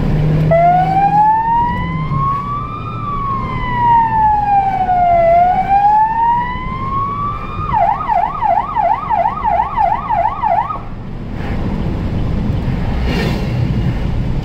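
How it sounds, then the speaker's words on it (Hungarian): A loud emergency vehicle siren sounds close, first a slow rising and falling wail, then a fast yelping warble for a few seconds before cutting off, leaving road noise. "Szirénázni és észreveszi."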